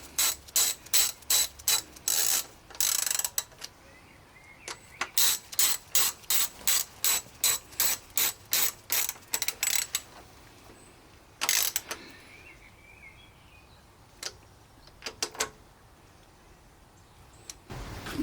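Rapid clicking bursts of a ratchet snugging bolts on an Africa Twin motorcycle chassis, close and loud, in quick rhythmic runs broken by short pauses and a few isolated clicks.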